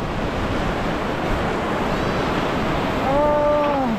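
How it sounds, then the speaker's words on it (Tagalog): Continuous roar of ocean surf crashing, loud and steady, with a gusty wind rush and a faint rising whistle-like tone near the end. "Yung hampas ng alon, ang sarap no."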